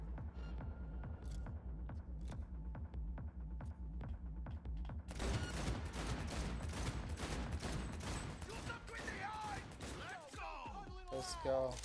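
Gunfire in the video game Cyberpunk 2077: a first stretch of sharp, regular shots over a low throb, then a dense, loud barrage of rapid fire and crashing effects, with voices speaking faintly underneath.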